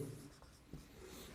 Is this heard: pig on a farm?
no